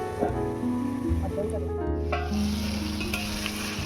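Spice paste for egg do peyaza sizzling and frying in a pan while being stirred, a steady close sizzle with scraping stirs throughout and a voice talking over it.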